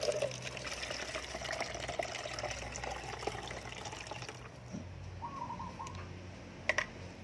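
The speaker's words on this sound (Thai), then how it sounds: "เราจะกรองเอาเศษของมะกรูดออกก่อนนะคะ" Liquid made from kaffir lime and coffee is poured through a strainer to remove the pulp, a moderate trickling and splashing flow that runs steadily before thinning into a few drips and small clinks.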